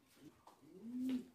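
German Modena fancy pigeons, a running pair sitting on eggs in a pigeon loft, give a soft low cooing that swells near the end, close by and with no talk.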